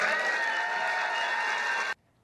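Applause at a political speech, with Republican lawmakers standing and clapping; a dense, steady wash of clapping hands that holds loud and even for about two seconds, then cuts off abruptly into near silence.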